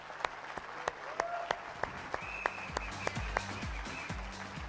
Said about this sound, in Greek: Θέλω να χειροκρότημα στον κύριο Σταύρο Κουτρή